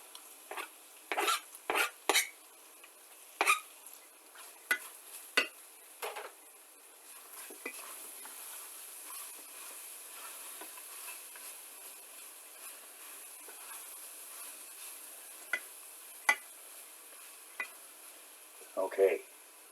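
Onions go into a pan of lasagna sauce and are stirred in a pot on the stove, with a cluster of clattering spoon scrapes and knocks, then a soft continuous stirring patter and occasional clinks.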